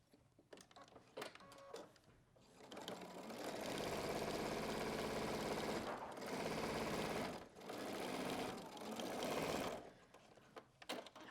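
A sewing machine stitches the curved pocket of a pair of denim shorts to its lining. It runs in long, fast, steady bursts with brief pauses and a few light clicks at the start and end, loud and close, with no talking.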